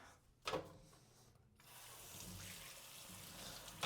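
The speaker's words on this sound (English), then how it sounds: "Let's rinse this dish." Water from a kitchen tap rinsing a dish, a steady close running splash that starts after a brief sharp clatter and carries on alone to the end.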